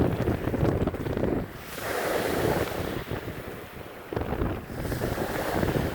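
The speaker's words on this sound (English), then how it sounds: "just enjoy the sound of the waves crashing up against the" Ocean waves surge and crash against a beach shore in repeated broad washes, loud and close, with wind buffeting the microphone between swells.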